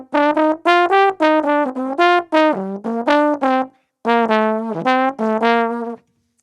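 Solo trombone plays jazz licks, quick articulated phrases of bright, close notes with slides and a brief pause midway, unaccompanied and without talk.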